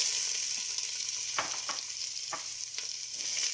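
Onions tumble into a hot pan for spaghetti sauce and sizzle steadily, with a few sharper crackles and stirring scrapes over a constant frying hiss, close and moderately quiet.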